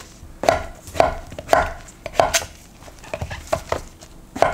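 A knife chops king oyster mushrooms on a cutting board for a braised side dish, producing about nine distinct thuds at an uneven, unhurried pace, close and clear with no talking.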